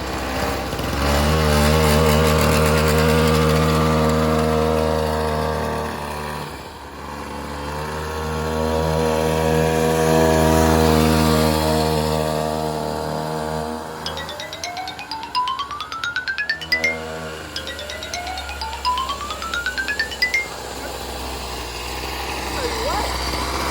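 A gas-powered 49cc pocket bike engine runs close by, droning at a buzzy idle before two sharp revs that climb steeply in pitch and fall back.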